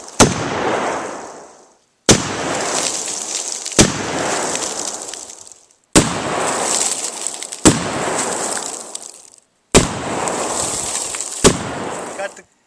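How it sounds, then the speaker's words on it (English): An FN shotgun fires at a heavily used Glock 23 frozen in a block of ice, giving seven loud close blasts at irregular intervals, each booming and ringing out before the next. "So what we're going to do is shoot at it with an FN shotgun and break it on out of that block of ice."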